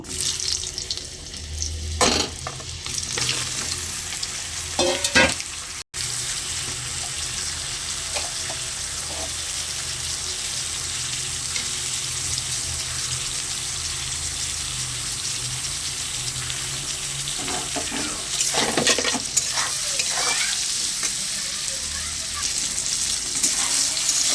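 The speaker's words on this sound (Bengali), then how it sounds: "এবার ওই তেলে বেগুনগুলো ভেজে নেব" Eggplant slices fry in hot oil left from frying fish, giving a steady, moderate sizzle with occasional clinks and scrapes from stirring, and no voices.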